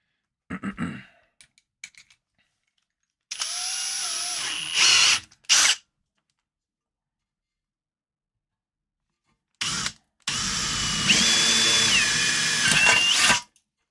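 A power drill with a 1/4 inch bit bores a hole in a toolbox, loud whining bursts separated by silences, with a short first run and a longer, steadier final run close up.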